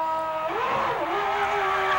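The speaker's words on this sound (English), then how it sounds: "He knows he has to keep the revs at a certain amount." A 1996 Ferrari Formula 1 car holds its engine at high, steady revs during a pit stop at the Australian Grand Prix, a loud continuous whine that wavers slightly in pitch, heard close without talk.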